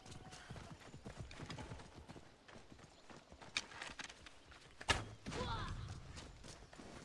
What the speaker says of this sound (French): Il est où le cheval? Canasson.